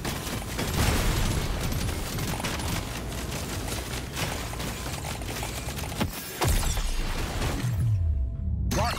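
Dense, continuous gunfire and explosions from the video game Deep Rock Galactic Survivor rattle on loudly throughout, with a brief dip in the barrage before the shooting resumes.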